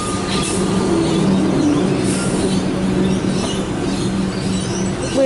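A six-car Melbourne suburban train on a Flinders Street service rumbles past near Altona in a steady, loud roar, with faint wheel squeal and rail noise throughout and no talking.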